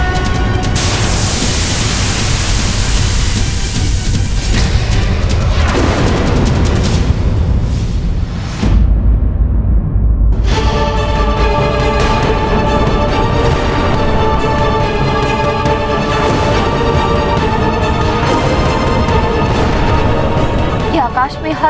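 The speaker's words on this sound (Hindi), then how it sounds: "ये आकाश में हर ओर अग्नि और विस्फोट" Dense, continuous roaring blasts and fiery bursts fill the sky in a Hindu mythological TV drama about Hanuman, loud and sustained with dramatic music tones rising over the rumble and no speech.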